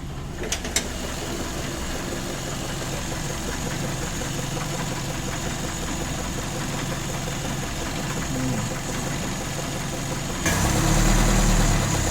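A vintage Citroën Traction engine idles steadily without choke, with a low uneven chug and faint knocking, close and constant, rising briefly in loudness near the end.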